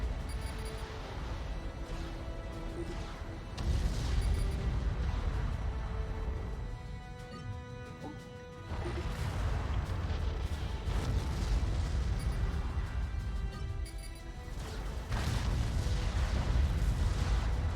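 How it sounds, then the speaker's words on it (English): Rapid, heavy artillery fire and explosions from a 2v1 battle video game fill the whole stretch, dense bursts and booming blasts repeating loudly with no pauses. "And there's the gunfire"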